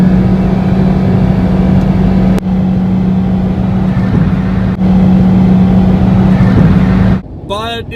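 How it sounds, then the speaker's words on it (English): A Nissan Cube drives along with a loud, steady engine drone and a persistent whine from its CVT transmission, interrupted by a couple of brief knocks before the noise drops away at the end. "For a small car, the Cube also makes a lot of noise. Now, part of that is due to the CVT transmission."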